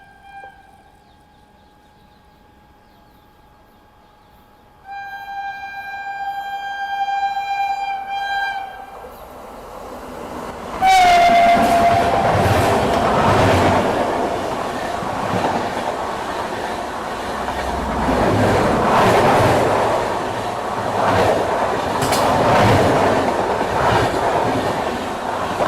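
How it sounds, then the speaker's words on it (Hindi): Telangana Express overtaking on a parallel track, opening with a long two-tone horn blast, then a loud, sustained rumble and rhythmic clatter of rail cars rushing past close by. "तेलंगाना एक्सप्रेस जो है वो आ रही है,"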